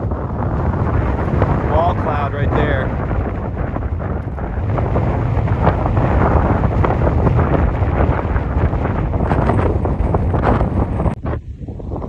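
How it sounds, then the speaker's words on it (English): Strong gusting wind from a tornado-warned storm in North Dakota roars and buffets the microphone continuously, with someone talking briefly over it. "Very, very windy."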